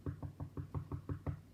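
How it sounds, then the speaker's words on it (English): Knocking on a wooden door, a quick run of about eight evenly spaced raps, close and firm, with no voices. "He knocked on the door."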